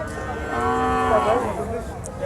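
A deshi bull lows loudly and close at a busy cattle market, one long drawn-out moo rising and falling over crowd murmur and background chatter.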